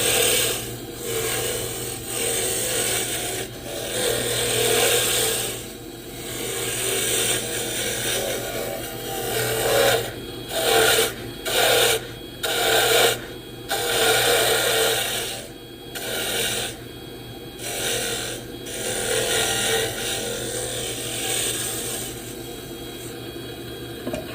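Charcoal Spectraply plywood being roughed down on a wood lathe for a bottle stopper, a continuous scraping, rasping cut over the motor's hum, with the tool lifting off in several brief gaps, close and without talk.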